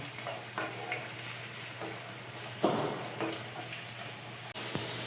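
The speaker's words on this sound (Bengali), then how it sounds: "আচ্ছা এবার বিনসটাকে ভেজে নিই" Green beans frying in a pan for egg paneer fried rice give a steady, moderate sizzle throughout. A few soft stirring knocks and scrapes sit on top, with a sharp clatter near the end and no voices.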